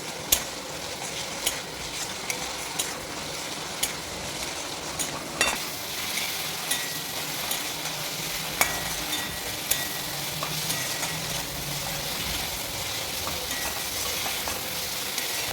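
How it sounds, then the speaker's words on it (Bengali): Spices stir-fried in a pan for potato dum (alu dum), a continuous sizzle with regular scraping and tapping strokes of the spatula against the pan, close and steady throughout, no voices. "ভালোভাবে কষিয়ে নিতে হবে এটাকে।"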